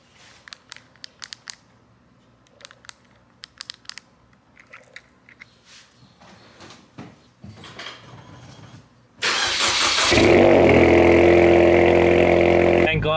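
An Acura RSX Type S engine cranks and catches after quiet rustling and small clicks, then runs loud and steady near at hand, holding a rough idle to the end.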